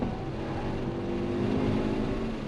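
A 2021 Hyundai Veloster N with a DCT pulls hard in first gear on an autocross course, its engine a steady, loud drone with rising harmonic tones and no talking over it.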